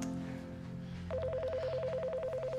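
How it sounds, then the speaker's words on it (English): A telephone rings with a rapid electronic warble that starts partway through, steady and close, with faint low room sound before it. "The phone, it's ringing."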